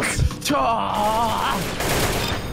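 Baseball gun in a Roblox obby game firing baseballs in a rapid, continuous burst of shots, with game sounds layered over it and no speech.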